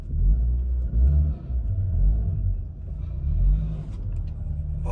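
A car engine laboring and revving on a rough forest track, a low, heavy rumble that swells and dips as the vehicle crawls over uneven ground, close and continuous with no talk.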